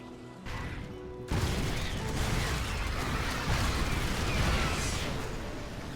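Units being destroyed in a StarCraft 2 Terran versus Zerg match, with a dense, crashing burst of explosions and combat noise that erupts loud and sustained after a brief quieter opening.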